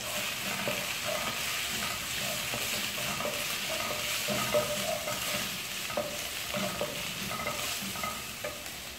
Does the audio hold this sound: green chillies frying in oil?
yes